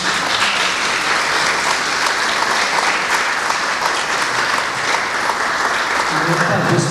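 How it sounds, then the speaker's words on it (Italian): Sustained audience applause at a bel canto concert during the Settimana del Belcanto in Civitanova Alta: dense, steady clapping fills the room for the full stretch without a break. "diciamo subito un grande applauso"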